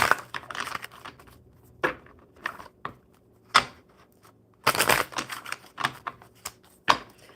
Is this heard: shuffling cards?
yes